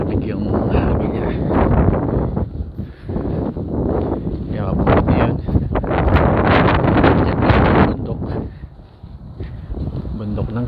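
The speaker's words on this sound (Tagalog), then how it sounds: "malamig yung hangin niya" Strong gusting cold wind in winter Montreal buffets the microphone in loud low rushes, easing briefly near the end, with a voice talking partly underneath.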